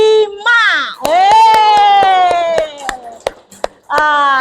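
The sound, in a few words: applause and cheering for group 3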